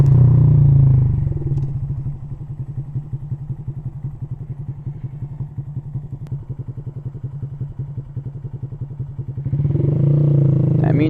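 A Honda Grom motorcycle idles and rides with a rapid, steady putter of the small single-cylinder engine, close and fairly loud, opening and closing with louder surges of wind or engine noise.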